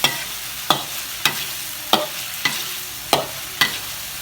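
Shrimp and halved stink beans (sator) stir-fry in a pan, southern Thai style, with about seven evenly spaced sharp spatula scrapes over a soft continuous sizzle, close up and without voices.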